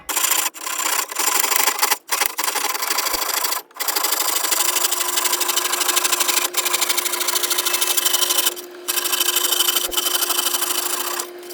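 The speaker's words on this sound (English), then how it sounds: "I'm going to use this Japanese saw. I can lay flat on here and hopefully it'll make a good clean cut" A Japanese hand saw cuts through the wooden side of a drawer from an antique dressing table. The strokes rasp close and loud in a fast, even rhythm, with a few brief pauses.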